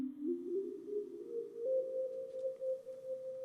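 A quiet modular synthesizer lead voice, internally quantized to a chord, plays a smooth, pure sustained tone that glides upward and settles into a steady pitch, heard alone.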